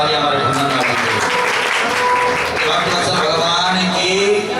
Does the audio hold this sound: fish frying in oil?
no